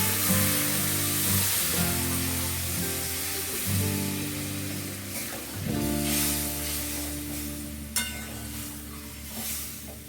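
Water poured into a pan of sizzling, spiced potatoes for aloo dum sets off a loud, hissing sizzle that stays steady, with stirring scrapes and a sustained tonal hum running underneath.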